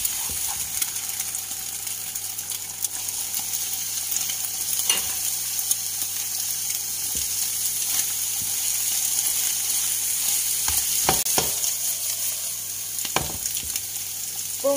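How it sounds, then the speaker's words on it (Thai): Egg and termite mushrooms stir-fried in a pan give a steady loud sizzle, with periodic sharp scrapes and knocks of the utensil against the pan and no voice. "พอไข่เริ่มเซตตัวนะคะก็ยีๆเข้าหน่อยนะแล้วก็ใส่เห็ดลงไปค่ะ"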